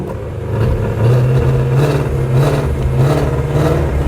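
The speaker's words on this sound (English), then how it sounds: "You can notice the way the sound changes of the engine." A 2018 Ford Shelby GT350 with its exhaust valves open idles and revs in a steady, loud, close drone, the engine note rising and falling slightly across a few seconds, with no talk.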